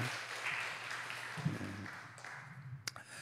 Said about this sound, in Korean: 우리 박수로 인사하죠